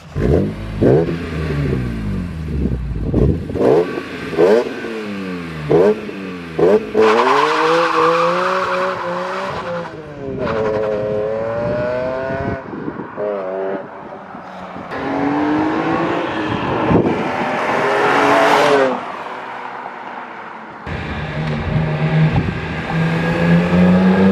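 A BMW E46 M3 with a new exhaust revs hard again and again outdoors, the exhaust note sweeping up and down in loud, close bursts with brief pauses.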